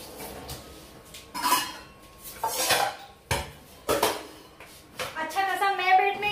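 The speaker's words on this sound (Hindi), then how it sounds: "अरे कढ़ाई बैठाओ, कढ़ाई बैठाओ" A kadhai (wok) being set on a home stove while preparing chicken, with repeated close metallic clanks and scrapes of cookware, and voices talking in the background.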